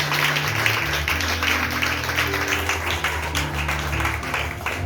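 A church congregation claps during a Sunday service, a dense, continuous patter of hands under sustained low music or organ tones, the room filled with steady applause.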